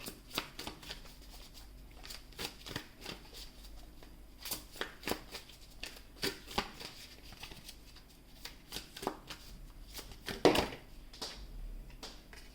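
Tarot cards being handled and shuffled, giving soft papery riffles, flicks and taps in an irregular run at close range, with one louder burst near the end and no talk.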